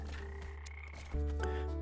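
Frog enemies in a Godot-built video game croak in a loud, close chorus of repeated throaty calls that swell louder near the end, with no talking.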